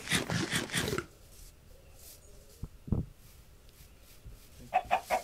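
Video-game chickens in Minecraft UHC cluck in short bursts, a cluster at the start and another near the end, with quieter game sounds between.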